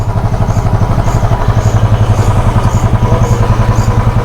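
A motorcycle engine idles steadily in a parking area, a close, rhythmic low chug with clattering pulses repeating evenly throughout, with no talk over it.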